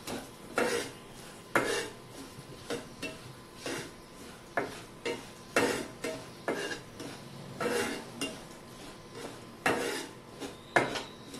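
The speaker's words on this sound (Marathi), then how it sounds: "तुकडे फ्राय करून घेऊया. मंद आचेवर फ्राय करायचे आहेत." Pieces of dates, makhana, almonds, cashews, pistachios and walnuts are stirred in a pan over a low flame. Frequent soft metallic clinks and knocks of a spatula against the pan come in uneven bursts, close and fairly quiet, with no talk.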